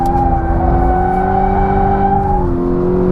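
A Toyota GT86 sports car of about 200 horsepower slides sideways under braking, its engine droning loud and steady with a sustained tonal note that shifts slightly in pitch near the end, heard from on board.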